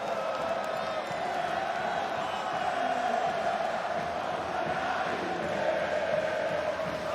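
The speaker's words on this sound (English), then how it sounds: "We found the crowd, Apex. Yeah, they're back, baby. Back in force." A large arena crowd at a CS:GO Major in Rio roars and cheers in a dense, sustained wash of voices, steady and loud throughout.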